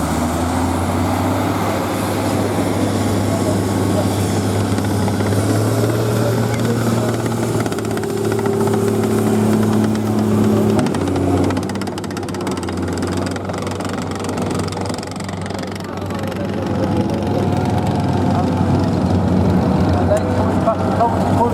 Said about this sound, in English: Frankie's going past in his Ferret.